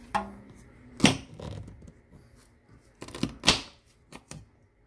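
A knife cuts through a ginger root on a board, giving a few sharp, close crunching taps spaced apart with quiet handling noise between them.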